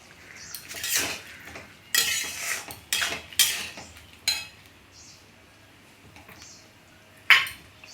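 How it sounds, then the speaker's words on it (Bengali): A spoon works ground poppy seed paste around a pan in several short bursts of scraping and clinking, with quiet gaps between the strokes. "এটা পোস্তটাকে একটু নেড়ে চেড়ে নেব।"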